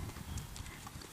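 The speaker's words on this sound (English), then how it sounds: "So if Lonnie, if your horse is not backing up very well, then start from scratch again, make him back" Horse hooves clopping on the ground as a horse is asked to back up, a steady faint series of soft steps with no voices.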